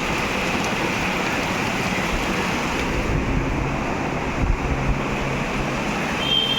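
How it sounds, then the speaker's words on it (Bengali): Heavy rain pours down outdoors in a steady, dense roar of drops hitting surfaces, constant and fairly loud throughout, with no talking. "এত জোরে বৃষ্টি পড়ছে"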